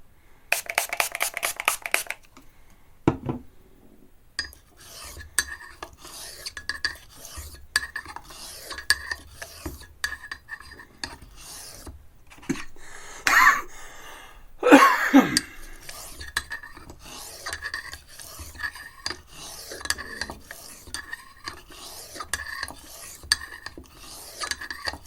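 A straight razor is honed on the coarse side of an oilstone, giving repeated short rasping strokes in a slow, even rhythm. The scraping is close and clear, with quiet gaps between passes.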